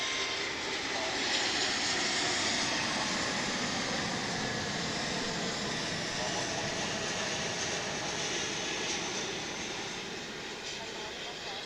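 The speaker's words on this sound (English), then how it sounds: "It's a 777 coming in from Honolulu. It's American Flight 102 on Runway" An American Airlines Boeing 777 from Honolulu lands at DFW International Airport, heard as a broad, steady jet roar with a constant hiss, fairly distant and easing slightly toward the end.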